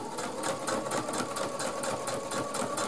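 A sewing machine stitches through thick foam fabric at a steady, fairly quick rate, its needle making an even, rapid mechanical chatter up close, with no talking.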